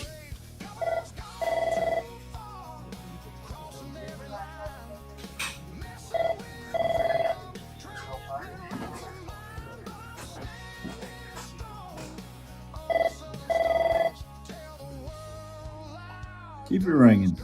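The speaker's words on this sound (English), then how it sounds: "Keep it ringing." A telephone rings in repeated short bursts, spaced a few seconds apart, under ongoing speech and background activity in Union City, New Jersey.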